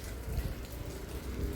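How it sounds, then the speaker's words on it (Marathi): Rain falls steadily outdoors with water running below, a continuous soft hiss with low rumbling underneath, no voices. "पाऊस चालू आहे बरोबर. बघा खाली पाणी वाहत आहे."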